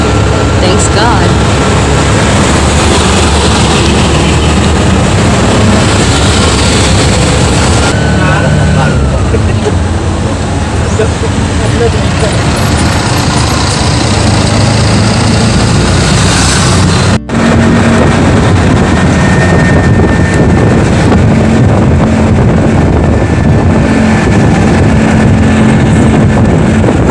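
Steady road-traffic rumble heard from inside a car stuck in slow traffic on the way to an airport, dense engine and tyre noise throughout with wind buffeting, loud and continuous.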